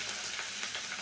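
Garlic paste frying in hot oil for a bitter gourd stir-fry, a dense steady sizzle with soft crackles, close and continuous without speech.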